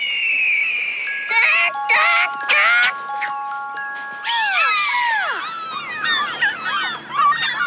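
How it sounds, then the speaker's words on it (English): A played hawk call: a series of sharp, descending piercing screeches, loud and close, the later ones overlapping in a rapid burst, with no speech over them. "Here's what a hawk sounds like."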